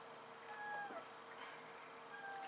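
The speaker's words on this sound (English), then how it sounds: "Obviously, the cat seems to want some." A domestic cat gives a few faint, drawn-out meows indoors, quiet and alone with no talk over them.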